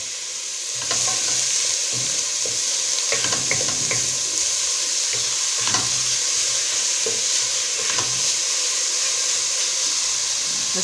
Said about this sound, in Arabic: نقلي شويه البصل